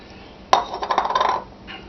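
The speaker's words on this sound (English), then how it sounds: "Here's 1 cup of water. We're going to start out 1 cup of water there." A cup of water pours into a cooking pot for chicken sausage filé gumbo, starting with a sharp splash and continuing as a short, close, bubbly gurgling stream for about a second before fading.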